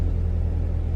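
A manual car's engine rumbles low and steady as the clutch is slowly released, a close, continuous drone over about a second with no talking.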